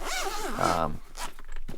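Zipper on a firm protective headphone carrying case being pulled open, a close, loud rasping zip lasting about a second, followed by quieter handling noises.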